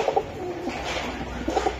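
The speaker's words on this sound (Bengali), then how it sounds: "এই যে একটা কবুতর" Pigeons coo softly in short repeated bursts at a pigeon seller's stall offering Giribaz highflyer birds, heard close by against a steady low background hum.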